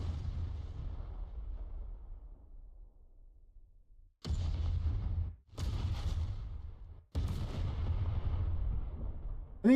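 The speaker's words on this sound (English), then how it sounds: "That's pretty satisfying sounding. Those are EMPs." EMP weapon sound effects in a 3D metroidvania game: a series of heavy, booming blasts, each a loud burst with a rumbling tail, firing in close succession after a quieter fading rumble.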